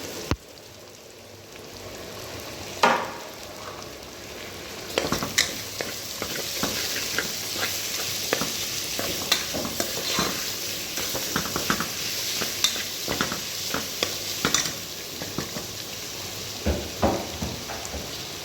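Chopped onions fry in oil in a pan while a spatula stirs them, giving a steady crackling sizzle broken by frequent scraping clicks for several seconds, with no talking.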